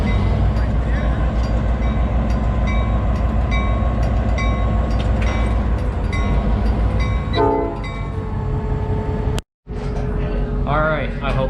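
A passenger train sits at the platform during boarding, its steady engine rumble running throughout with horn-like tones and clanking, followed by a brief cutout and renewed rumble.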